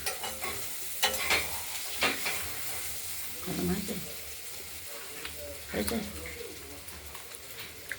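Beans frying in mustard oil in a wok give a steady sizzle with repeated stirring scrapes, while voices talk over the cooking and a pigeon coos faintly in the background.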